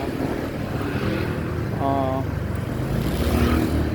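A Honda Vario 125 motorcycle engine, never disassembled and still on its original air filter, idles with a steady, close, continuous drone, and a voice briefly overlaps midway.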